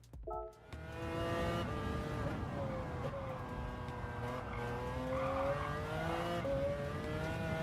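A GT One race car at Spa in Gran Turismo 7 holds a steady, loud engine drone that rises and falls through the gears, with faint tire noise beneath.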